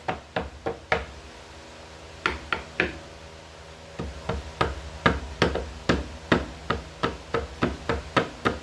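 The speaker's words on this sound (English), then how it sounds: "use my hammer to pick away" A hammer taps and knocks in quick sharp strikes, picking bark off a cherry burl, coming in short runs with brief pauses between them, close and fairly loud.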